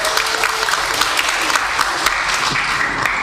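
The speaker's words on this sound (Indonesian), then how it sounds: "Tepuk tangan untuk Pak Pendeta Muriwale." An audience at a public Islam–Christian debate hall claps for a pastor, with dense, loud, sustained applause that fills the room.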